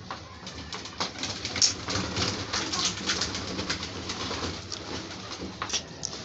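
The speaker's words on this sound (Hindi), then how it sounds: "बशर तंग कर रहा कबूतरों को।" Pigeons coo and flutter close by while a child pesters them, a steady low murmur of soft calls with rustling and scattered bumps throughout, no speech.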